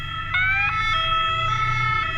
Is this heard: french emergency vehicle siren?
yes